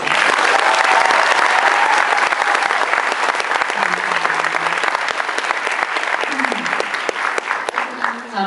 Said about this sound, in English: And I just want you to give them a big applause.